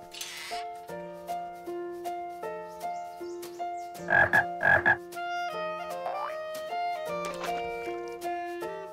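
A cartoon frog croaks twice in quick succession over light background music in a children's animated episode. The croaks are close and clear.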